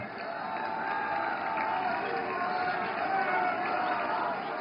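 Standing crowd applause welcoming the Prime Minister at a Delhi political event: dense, steady clapping and crowd noise from a large audience, continuous throughout with a slight muffled, broadcast quality.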